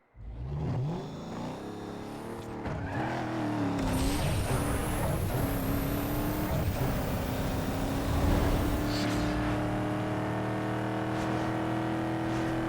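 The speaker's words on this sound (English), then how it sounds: "let me quickly do a 400-meter pull for you" A Cadillac Escalade with a 6.0L V8 in Need for Speed Underground 2 launches on a 400-meter drag run, the engine roaring loud and continuous as it revs up through the gears, with rising whine and gear shifts, no talk.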